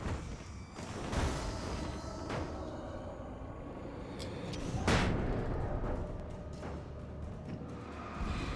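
A flashbang detonates in the video game Alan Wake with a sharp loud burst, followed by another blast a few seconds later, over a dense, rumbling game soundscape.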